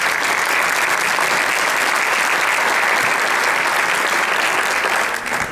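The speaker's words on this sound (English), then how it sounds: "Please give him a round of applause." Audience applause at a community college candidate forum, dense steady clapping from a seated crowd filling the room, sustained for several seconds before starting to taper off.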